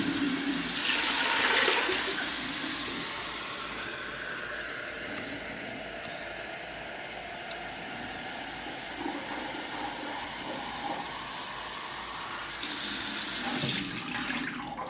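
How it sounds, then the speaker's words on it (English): Six cups of water poured from a container over two cups of dent corn in a pot, a steady splashing rush that runs continuously for most of the clip and swells again near the end, close and clear with no talk. "I'm going to put 6 cups of water in."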